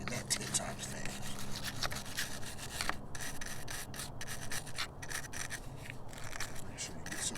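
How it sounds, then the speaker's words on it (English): A car battery being scrubbed with a wire bristle brush, a continuous close rasping scrub with quick back-and-forth strokes running under a voice. "Get you a silver bristle brush."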